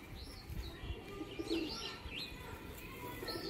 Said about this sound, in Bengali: এইখানে রয়েছে রাজশাহী গিরিবাজ পায়রা।